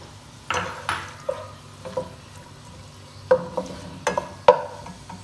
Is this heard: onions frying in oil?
yes